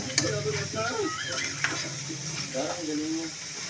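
A spoon scrapes and stirs food in a sizzling pan, with intermittent clinks against the metal over a steady frying hiss while a voice murmurs faintly in the background.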